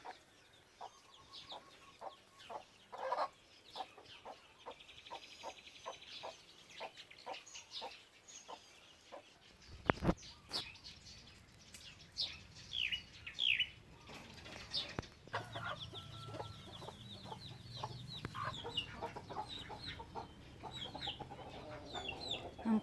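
Free-range chickens roaming a backyard cluck in short repeated bursts, with a rooster-like call and a sudden loud flurry of flapping wings midway, all fairly close but quiet amid faint outdoor background.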